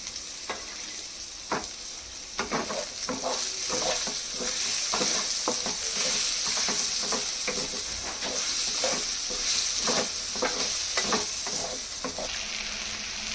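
Tomatoes being sautéed in a pan for pasta, with a steady sizzle and frying hiss throughout and repeated scraping stir strokes of a utensil against the pan, close by and without talk.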